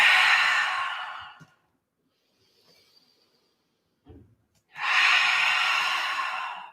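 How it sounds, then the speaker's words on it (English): Two long, loud breathing sounds, one near the start and one near the end, separated by a quiet gap with a faint soft noise in the middle, taken during a yoga balance practice. "Take a few big cleansing breaths if you need to."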